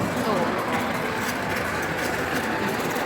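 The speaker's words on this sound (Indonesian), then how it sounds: "Lihatin ini makanannya diantar pakai kereta kayak gini nih" A miniature train delivers food along rails at the Meat and Beer on Rails restaurant in Prague, giving a steady, close rolling hum and rumble that runs throughout beneath busy dining-room chatter and voices.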